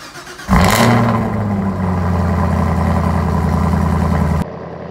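A 2023 Chevrolet Camaro ZL1 convertible's supercharged V8 fires up with a loud, close rev flare, then settles into a steady, deep rumbling idle before cutting off abruptly.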